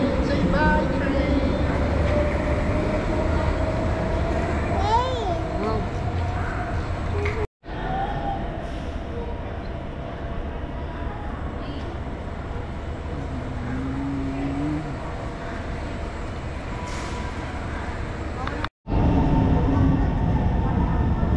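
Singapore metro train departing Aljunied Station, a steady loud rumble of wheels and motors rising and holding over the platform, with brief squeals and a child's and adult's voices faintly mixed in.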